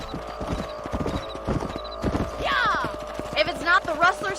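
Hooves clip-clop in a steady, galloping rhythm as a horse runs in the video game Red Dead Redemption, with a brief whinny and game voices partly over the hoofbeats.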